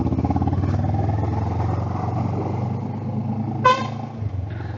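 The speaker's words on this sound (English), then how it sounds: "And that small honk is what you get, or what you are supposed to give." A passing vehicle gives a short, small honk on a road through the jungle of India's Western Ghats, a brief toot over the steady drone of a Kawasaki Ninja 650 motorcycle engine and traffic.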